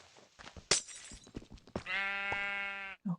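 A sheep in a block-building survival video game gives one long, clear bleat after a run of short clicks and thuds from gameplay, followed by a brief low sound at the end.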